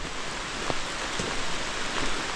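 Steady rain falls through the woods in a dense, even patter, with a few louder drops striking nearby surfaces.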